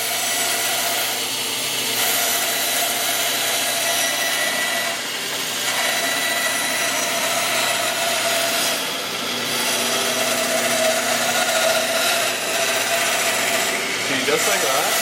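A bandsaw set up with a circle-cutting jig, its blade running steadily through wood as the board turns to cut a round disc; a continuous, loud, even whir and rasp of cutting that fills the clip without pause.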